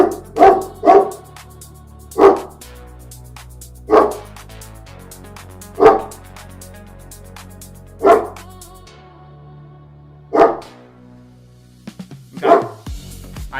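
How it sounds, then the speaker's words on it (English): A pet dog named Titan, called Big T, barks in sharp, separate bursts, about nine barks spaced unevenly over several seconds. The barks are loud and close, with no talk over them. "Alright, sorry, that's my dog."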